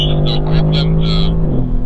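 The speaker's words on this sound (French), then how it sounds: "Le couple est tout simplement impressionnant, ainsi que le bruit du moteur" A Mercedes-AMG GT R engine drones loudly and steadily on the Bilster Berg race circuit, its tone holding level before shifting near the end, with someone talking over it throughout.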